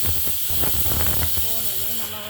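A steady loud hiss of mustard seeds, urad dal and fenugreek frying in hot oil for rasam, with small crackles and pops on top and a brief faint voice.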